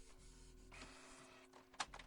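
A printer runs in a video game, its steady mechanical whirring and paper-feed hum building midway before a short sharp clack near the end, with no one talking.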